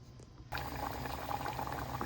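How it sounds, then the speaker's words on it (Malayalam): Mutton stew with coconut milk bubbles in a pot, a soft start giving way after a moment to a steady, close simmering burble. "തിളച്ചുകൊണ്ടിരിക്കുന്ന മട്ടൻ സ്റ്റൂവിലേക്ക് 1 സ്പൂൺ മല്ലിപ്പൊടി, 1 നുള്ള് ഗരം മസാല ചേർത്ത് കൊടുക്കുക."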